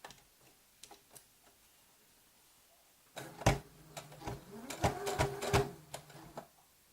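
Sewing machine stitching a hem on a tote bag: a few faint clicks, then loud bursts of rapid mechanical whirring and ticking in short runs, close by.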